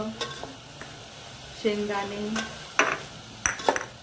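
Vegetables sautéing in a pan with asafoetida for sweetcorn masala rice: a quiet, soft sizzle broken by several short scraping stirs and clinks of a spoon against the pan.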